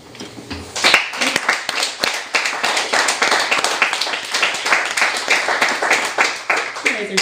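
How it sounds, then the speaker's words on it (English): Audience claps after a spoken-word poem at a live reading, a dense burst of many hands that holds steady for several seconds. "You guys are so nice to clap for that poem"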